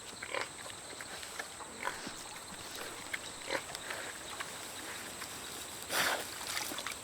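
Peccaries, wild pig-like animals, snuffle and grunt for food near water in the Amazon of Colombia, with soft intermittent snorts and a louder burst rising over a faint, steady background hiss.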